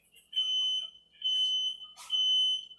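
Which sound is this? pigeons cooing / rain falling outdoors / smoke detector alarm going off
smoke detector alarm going off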